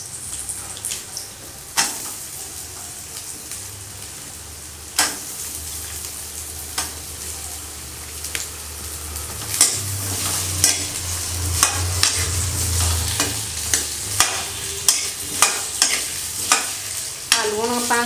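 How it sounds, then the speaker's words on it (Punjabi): Potatoes frying in hot oil in a kadai for aloo do pyaza, a steady close sizzle with clinks of stirring against the pan running throughout. "ਫਿਰ ਇੱਕ ਕੜਾਈ 'ਚ ਤੇਲ ਗਰਮ ਕਰਕੇ ਆਪਣੇ ਆਲੂਆਂ ਨੂੰ ਪਹਿਲਾਂ ਕੜਾਈ ਵਿੱਚ ਪਾ ਕੇ ਫਰਾਈ ਕਰ ਲੈਣਾ"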